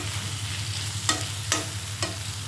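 Brinjal (eggplant) poriyal stir-frying in a pan, with a soft constant sizzle broken by three sharp spatula scrapes and knocks close by, and no talk.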